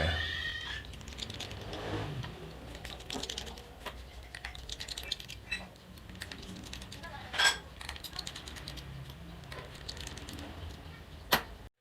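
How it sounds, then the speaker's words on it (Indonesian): Small screws being undone with a Phillips screwdriver on a Sharp Aquos R2 phone, giving scattered light clicks and taps with a couple of sharper metallic ticks, close up. "Buka bautnya menggunakan obeng plus"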